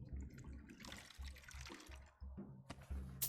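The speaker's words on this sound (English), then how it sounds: "Let's get a refill of water" Water being refilled in the video game Skyrim, a short splashing, pouring gurgle with low bubbling pulses, fairly faint and alone, ending in a brief bright click.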